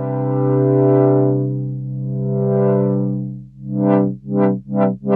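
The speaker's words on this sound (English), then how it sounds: "With reset mode switched off, modulating the filter would sound something like this." UDO Super 6 synthesizer with reset mode off, its filter swept by an LFO: a sustained buzzy chord slowly opening and closing twice, then pulsing in quicker rhythmic sweeps, all voices moving together.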